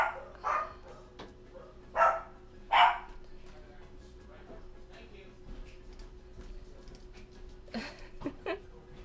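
A small dog barks a few sharp times in a room, loud bursts spaced out early on and again near the end, while a person talks quietly in between.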